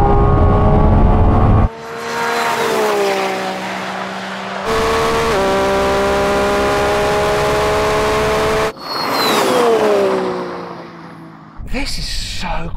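A Lamborghini Revuelto launching hard in a drag race against a Ferrari 296 and SF90, its engine note rising loudly through several gears with brief breaks at each shift.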